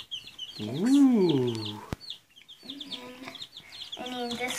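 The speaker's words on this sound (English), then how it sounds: "Three ducklings and six chickens." Ducklings and chicks peep and chirp in high, quick bursts while a person speaks briefly nearby, with soft rustling between calls.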